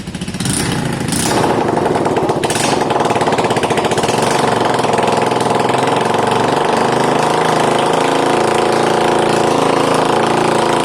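A rusty Keeway motorbike engine kicks into life after a couple of cranking bursts, then settles into a loud, steady, rattling idle close by, with no talk over it.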